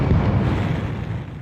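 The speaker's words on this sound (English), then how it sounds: "The fireworks thunder and crack." A dense, loud, rumbling roar of fireworks booms fills the entire moment with continuous low thunder and crackling texture and no clear gap between bursts.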